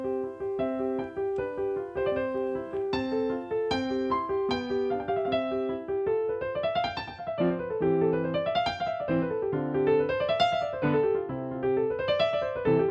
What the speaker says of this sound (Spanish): Esta partitura que vimos al principio es la muy conocida sonata para piano número 16 de Mozart